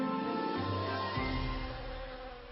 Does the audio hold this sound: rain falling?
no